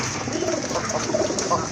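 Pigeons of an old local Bangladeshi breed, kept in a crowded loft of birds and squabs, coo softly in low throaty bursts through a busy, close background.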